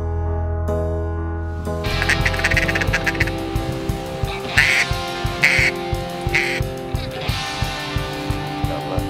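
Ducks quack repeatedly while gliding in toward a hunting decoy spread on the opening day of duck season. The calls come loud and close in quick overlapping bursts over a steady music bed.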